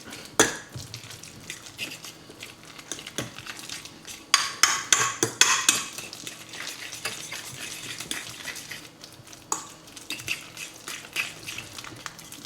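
A utensil stirs and mixes haddock brandade in a bowl, giving close, uneven scrapes and clinks that cluster into busier bursts of mixing partway through before slowing again.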